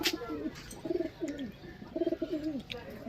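Red Abluk pigeons cooing close by in repeated soft, throaty phrases, a few seconds apart, with faint background hiss.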